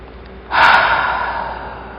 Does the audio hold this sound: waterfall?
no